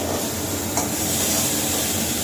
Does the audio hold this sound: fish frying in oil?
yes